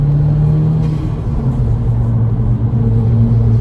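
A turbocharged 2-litre engine in a Mk5 Golf GTI drones with a low, steady rumble from inside the cabin, its pitch shifting slightly as it cruises along.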